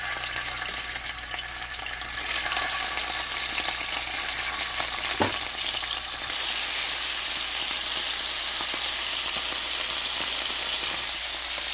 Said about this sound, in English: let's start frying these little fishies